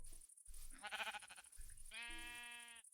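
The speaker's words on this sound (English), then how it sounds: "Well, we have got some sheep." Minecraft sheep bleat twice in a modded playthrough, a wavering, buzzy baa followed by a steadier, drawn-out one, set against a constant high-pitched whine and soft game noise.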